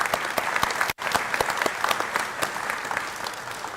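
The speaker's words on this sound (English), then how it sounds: "How about a round of applause for these?" Crowd applauding at a Vietnam-era veterans awards ceremony in West Haven, full sustained clapping from a sizable audience with sharp individual claps standing out, briefly cut near the start, then continuing steadily.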